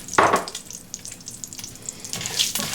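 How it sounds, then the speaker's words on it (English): Rice frying in fat in a pan for sausage fried rice, a soft sizzle with a louder burst as the grains go in and brief scraping and stirring noises, fairly close. "Let's add our rice to have it fried."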